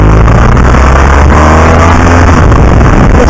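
A 2015 BMW R1200 GS Adventure two-cylinder motorcycle pulls away up a mountain road, its engine giving a loud, steady low drone with wind rush over the microphone throughout, no talking.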